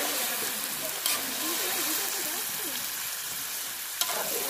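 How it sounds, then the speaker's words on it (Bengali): Plenty of chicken pieces fry in hot oil for biryani, a dense, loud, continuous sizzle and crackle with a couple of stirring knocks, close up and without voices. "তেল গরম হয়ে গেছে, মাংসটা দিয়ে দিচ্ছি।"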